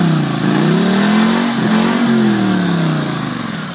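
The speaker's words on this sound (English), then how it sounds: "Sounds a little tinny at idle, but when you give it some RPM there, it really fires up." The engine of a 2013 Polaris Scrambler 850 ATV is revved hard, climbing to a loud, close roar, dipping briefly, then rising again before settling back down, with no voices.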